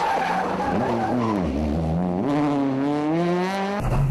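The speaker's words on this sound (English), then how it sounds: "overshooting the entrance into the arena and sliding onto the gravel" A rally car overshoots the entrance into an arena and slides onto gravel, its engine loud and close with pitch swooping down and back up through the skid before a sharp change near the end.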